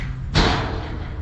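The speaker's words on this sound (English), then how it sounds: "Yeah, keep slamming it, dump truck." A dump truck slams once in the distance with a single dull, booming thud, heard from an outdoor trail overlook over steady wind noise.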